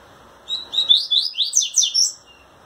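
A male coleiro pardo seedeater sings to a female, a close, loud run of bright rapid chirps and trills lasting about one and a half seconds before quiet returns.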